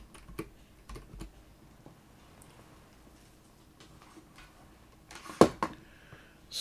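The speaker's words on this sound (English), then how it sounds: "Having trouble typing." Quiet, scattered clicks of typing on a computer keyboard, with a few sharper keystrokes and small bursts of tapping in a calm room.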